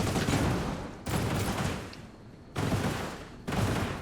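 Sci-fi gunfire rattles in dense sustained bursts as a ship is shot at in the video game Industries of Titan, loud and continuous with sharp breaks between volleys, no voices.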